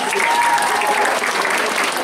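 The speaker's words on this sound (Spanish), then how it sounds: "Un aplauso para ellos tres, por favor." Dense, loud audience applause at a canine unit demonstration, a continuous wash of clapping from a large crowd lasting the whole two seconds, with faint voices mixed in.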